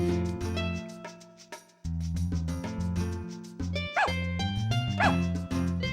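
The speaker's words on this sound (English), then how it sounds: "Yeah, they're barking at us." Two short dog barks ring out from stray dogs in the video game Harvest Moon: A Wonderful Life, spaced about a second apart over steady, looping background game music.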